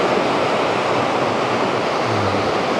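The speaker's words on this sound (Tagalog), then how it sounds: "Grabe talaga yung alon." Ocean waves crash steadily on La Laguna Beach during a typhoon, a loud, continuous broadband roar of surf with no pauses and no talking.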